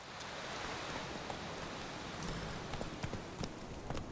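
Roach, Geralt's horse in The Witcher 3, gallops along a road with steady rhythmic hoofbeats under a continuous noisy rush of wind or rain, moderately loud and with no one speaking.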